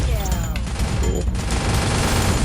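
Rapid pistol gunfire in the Free Fire battle game, several quick shots close together over a dense, loud mix of game noise.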